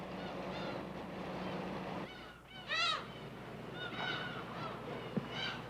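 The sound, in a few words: seagulls crying over the cliffs of Dokdo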